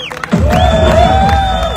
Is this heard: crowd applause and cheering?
yes